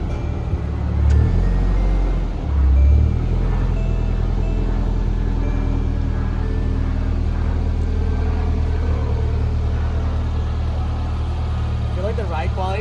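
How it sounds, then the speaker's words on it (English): A Nissan 240SX on freshly installed coilovers rolls out under low engine rumble and idle, close by, while people talk over it throughout. "I'm gonna pull this car out, it's gonna look crazy"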